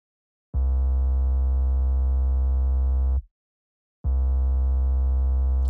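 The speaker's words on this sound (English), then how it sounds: "In the intro, I'm also playing a sub bass here." A sub bass plays a simple low note twice, each a steady, smooth tone held about three seconds with a short silent gap between, loud and clean with nothing else heard.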